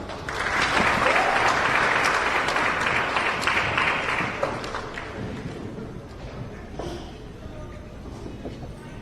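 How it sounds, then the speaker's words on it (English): A banquet audience at a Ghana Independence Day dinner and awards gives a round of applause, a loud crowd of clapping that swells early and then thins toward a softer patter with faint murmurs. "so with a round of applause, let's introduce Honorable Yao Kuma"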